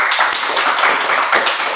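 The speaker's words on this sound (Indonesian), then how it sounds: "Tepuk tangan ya." A short burst of hand clapping during a podcast conversation, a few quick irregular claps close by for under two seconds, with no talk over it.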